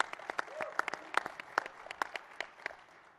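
Scattered applause from an audience at a political forum in Orlando, Florida, with distinct individual claps popping out of a soft crowd bed. Fairly faint and distant, with a few voices mixed in.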